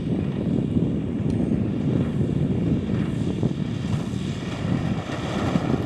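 A model airplane engine drones steadily during an IMAC precision aerobatic routine at a family fun fly airshow, a continuous moderately distant hum mixed with wind noise.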